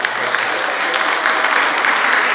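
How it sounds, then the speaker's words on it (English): An audience at a Yoruba cultural day celebration in Melbourne applauds the mayor with steady, continuous clapping throughout. "Another round of applause for the mayor of Yhca City of Yhca Council"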